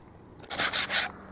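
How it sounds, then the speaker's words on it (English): Three quick rough strokes of sandpaper rub along the edge of skateboard grip tape, a brief scratchy burst after a quiet start, close and fairly loud. "Sand down the edges"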